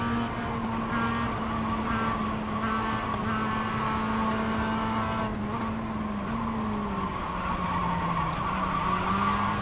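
Mazda MX-5 race car in the iRacing simulator, its engine holding a steady droning tone with shifting pitch and occasional tire squeal, loud and continuous throughout without any talking.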